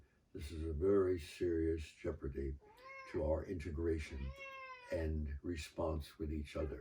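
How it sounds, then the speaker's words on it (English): A house cat meows several times, sharp and fairly close, overlapping with someone speaking indoors. "If you heard a little meowing"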